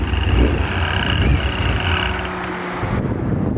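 A Paxton supercharged Ford Mustang engine idles roughly with a cylinder misfire, a steady low rumble with wind buffeting the microphone that drops away abruptly near the end.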